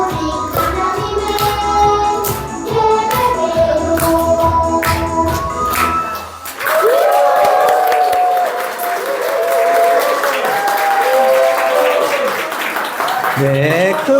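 Congregation applause during an Easter Sunday church service, a burst of clapping from the pews for children who just performed, heard over and after a sung hymn with instruments and voices continuing underneath.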